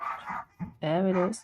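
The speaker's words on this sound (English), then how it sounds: "Sorry, that's my neighbor's dog." A neighbor's dog gives a short, whining bark close to the mic, right after a person speaks briefly.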